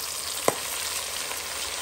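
Salted pork tail cooking in a pan with tomatoes over lowered heat, a steady close sizzle and gentle frying hiss throughout, with one brief clink of a utensil.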